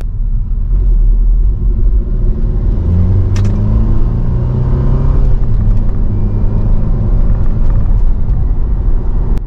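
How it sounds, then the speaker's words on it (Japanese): A Mercedes-Benz SLK200 accelerates to merge onto traffic, its engine note a loud, steady rumble with a rising tone heard from inside the car, with no voices. "合流加速に不安感がある。"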